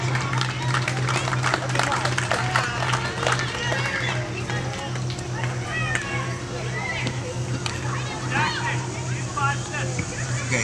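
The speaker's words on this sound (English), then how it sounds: "Let's give him a round of applause." Crowd applause at a Little League World Series baseball game, scattered hand claps rising under an announcer's voice and general spectator chatter, fairly distant and steady.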